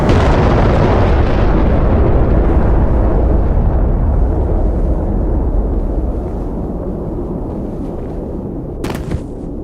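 A roaring, sustained explosion and crash rumble as a MiG jet crash-lands in a flight combat game, loud and close, slowly easing off over several seconds with a brief crackle near the end.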